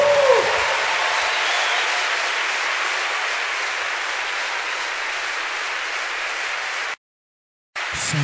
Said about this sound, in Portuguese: Aplaude ele aí